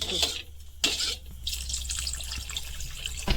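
Water splashing and running into a pot of yogurt while cooking Bengali aloo dum, with a few bursts of pouring and a steady trickle close by.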